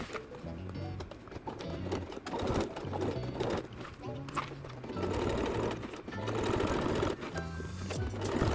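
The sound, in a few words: Singer sewing machine sewing through leather bag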